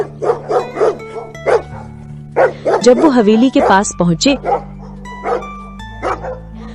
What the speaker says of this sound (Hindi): रास्ते में झींगुरों की आवाज और कुत्तों का भौंकना और भी खौफनाक लग रहा था